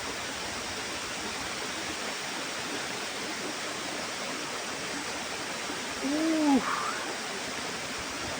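Secret Ella waterfall in Sri Lanka, heard from its top, gives a steady broadband rush of falling water, with a brief tonal call rising over it near the six-second mark.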